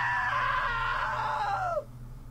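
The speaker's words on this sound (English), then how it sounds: "Now that was a great scream." A long, loud scream with a sliding, wavering pitch from a character in the video game What Remains of Edith Finch, holding steady for nearly two seconds before dropping off abruptly into a faint room hum.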